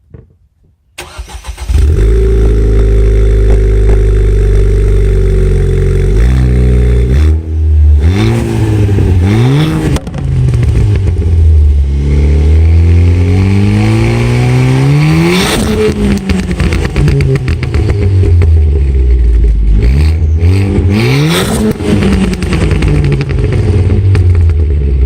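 A Ford Fiesta ST200 exhaust fires up and idles loudly, then revs repeatedly in rising and falling sweeps, close and alone with no talk.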